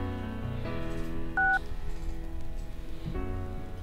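A telephone number is dialed with a single short tone beep in the middle, set against soft rhythmic music with no one speaking.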